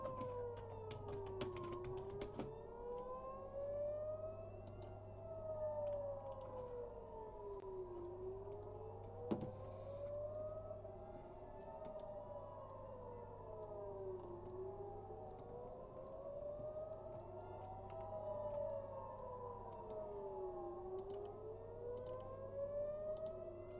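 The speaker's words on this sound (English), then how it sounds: "Okay, sirens off." Civil defense siren in Farming Simulator 25, set in Missouri river bottoms farmland, wailing in long rising and falling cycles about every six seconds, steady and prominent over a low constant hum, with no talking.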